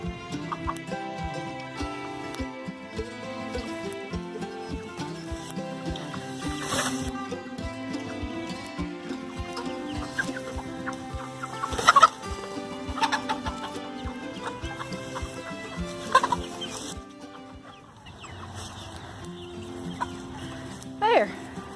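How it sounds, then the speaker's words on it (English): A flock of chickens picks through grass near a garden, clucking steadily up close for a long stretch, with occasional louder squawks and calls rising above the murmur. "Now I have a bunch of happy chickens."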